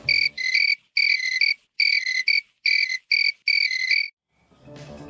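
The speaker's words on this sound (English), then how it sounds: "That's right, crickets." Crickets chirp in clear, evenly spaced bursts, loud and isolated against silence, dropped in as a comedic sound effect before a brief muffled noise at the end.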